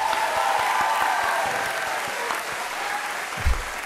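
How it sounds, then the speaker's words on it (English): A few people clap for a man named Frank in a car workshop where a 1000 HP all-wheel-drive BMW E36 is being built, thin scattered applause fading slightly, ending with a low thump near the close. "let's clap it up for my guy Frank"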